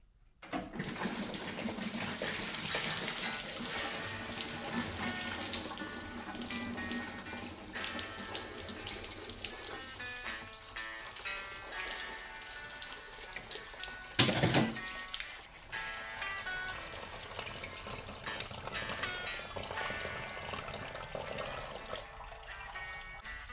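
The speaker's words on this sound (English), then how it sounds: "all of the coolant will be spilled on the floor" Engine coolant drains out of a car during engine and transmission removal and splashes steadily onto a shop floor, a continuous rushing, gurgling pour of liquid that holds a constant level for the whole stretch with one brief louder knock midway.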